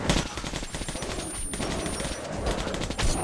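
Dense, continuous gunfire from a weapon in the video game Metro: Last Light, rapid and loud throughout with a busy, chaotic backdrop of game noise.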